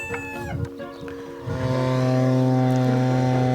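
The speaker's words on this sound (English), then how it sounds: "you guys can hear the pump in the background" A motor-driven water pump on a farm starts up and settles into a loud, steady droning hum with a strong tonal whine, preceded by faint background clatter.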